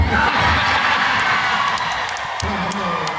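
A crowd of fans screams and cheers in a mall conference hall during a popular Buddhist lecturer's talk, a dense, loud, continuous roar of many voices with shrill whoops rising above it throughout.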